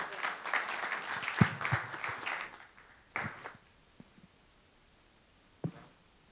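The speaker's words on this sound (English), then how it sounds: "Let's give them a big round of applause." Audience applause at a TCL TV launch and certification ceremony, with a burst of clapping that fades after about two seconds, then a few scattered claps and isolated late handclaps in a quieting room.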